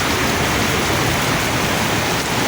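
Heavy rain falling across Hemayetpur during a power outage makes a dense, steady broadband hiss with no gaps and no voices.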